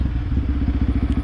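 A motorcycle fitted with an RSS WR standard aftermarket exhaust idles and revs close to the tailpipe, giving a deep, rapid pulsing burble with a slight crackle, loud and steady with no voices.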